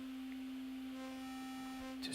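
Synthesizer voltage-controlled oscillator sounding a steady, pure sine-like tone that holds level throughout, faint and alone, with a brief click near the end.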